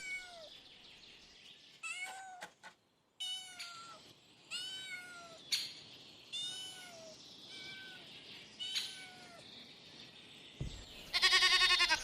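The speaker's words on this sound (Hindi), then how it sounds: "कैट, कैट को हिंदी में बिल्ली कहते हैं।" A domestic cat meows again and again, about eight clear, close calls spaced out with short pauses, ending in a louder, noisier burst.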